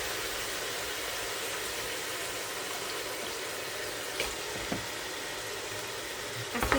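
Meat goes into a pan of fried spice masala while cooking biryani, and a steady, broad hiss of sizzling fills the whole stretch, loud and close, with a few small pops and crackles near the end.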